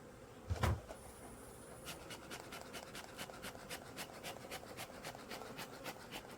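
Honeybees buzz around beehive packages, a faint hum punctuated by a sharp close knock near the start and a string of regular clicking taps over the quiet background.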